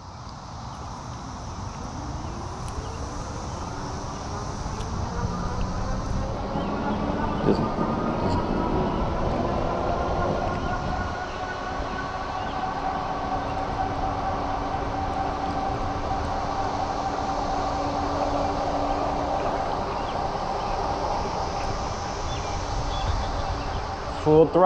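A 20-inch Ecotric fat tire foldable e-bike runs at full twist throttle without pedaling on a running-track lane, its motor whine rising under a constant roar of wind rushing past.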